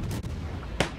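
Naval gun fire from a battleship in the World of Warships video game, one muffled heavy boom that rolls briefly over a low engine and sea rumble.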